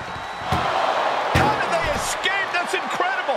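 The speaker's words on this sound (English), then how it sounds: "Shut the door, seal their fate." Heavy slams of an ambulance door in an X-Pac versus Wakko ambulance match in a wrestling video game, two loud booming impacts about a second apart amid crowd noise and voices.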